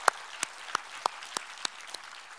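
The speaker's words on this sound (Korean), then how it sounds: "우리 하나님께 감사와 영광의 박수를 드리겠습니다." Clapping in a Korean Sunday church service: seven sharp, separate claps spaced evenly over two and a half seconds, fairly close and crisp, with no talking.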